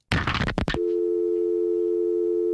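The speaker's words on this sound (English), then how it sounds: "Every hang up effect had the dial tone at the end" A brief burst of busy noise cuts off into a steady, continuous telephone dial tone that hums alone to the end after a radio call-in hang-up.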